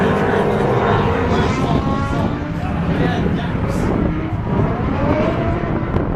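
A drift car's engine roars loud and sustained during a practice run at a drifting event, a continuous dense wash of revving and tire noise with no pause.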